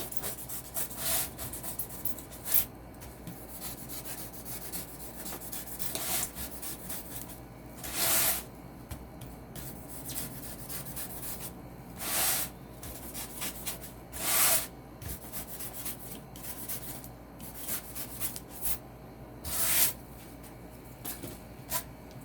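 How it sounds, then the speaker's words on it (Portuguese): Styrofoam being sanded by hand to shape a giant decorative doughnut, a steady close scraping rub with repeated strokes and a few louder abrasive bursts, no talk. "quando a gente for lixar, a gente tem aqui já o processo bem"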